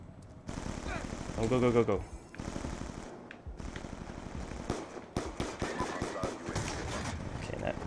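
Rapid automatic gunfire in Call of Duty: Black Ops 2 multiplayer on the Wii U, with dense bursts and single shots through most of the clip, while a player talks briefly over the game sounds.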